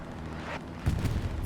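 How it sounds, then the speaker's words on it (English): An explosion in the World War II shooter Hell Let Loose during a competitive match, a deep booming blast that lands suddenly and rumbles on briefly at moderate distance. "What was that explosion sound?"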